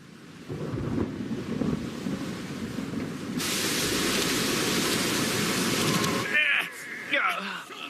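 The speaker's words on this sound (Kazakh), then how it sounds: "О, жел көтерілді, мықтап ұста" Strong wind rising in an animated cartoon, a broad steady roar that swells loud and holds, then drops away near the end as other sounds take over.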